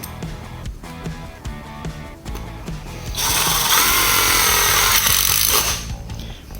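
Power drill driving screws straight into the rim of a wide-wheel scooter without pilot holes, a loud sustained bite from about halfway through after quieter handling noises.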